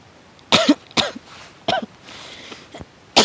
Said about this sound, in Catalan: Aquesta tos no m'agrada.